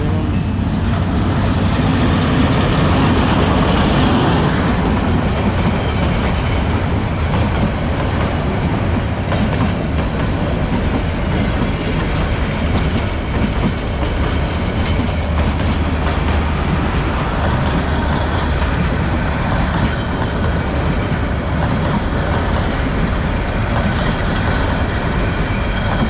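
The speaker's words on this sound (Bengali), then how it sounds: "তো এরই মধ্যে একটি ট্রেন চলে আসছে" A train rolls along a railway line through Dhaka, its loud, broadband rumble and wheel clatter running steadily throughout at close range with no voices.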